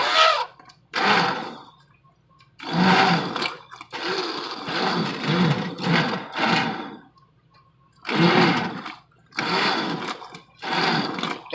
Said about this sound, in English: what I'm going to do at this point is use my emulsion blender